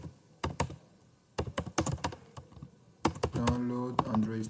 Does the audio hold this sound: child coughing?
no